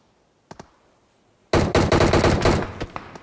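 Video game gunfire: two quick shots crack out, then after a pause a loud, rapid burst of automatic gunfire rattles close by before tapering into a few scattered shots.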